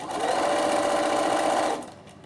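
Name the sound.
sewing machine top stitching along folded fabric edge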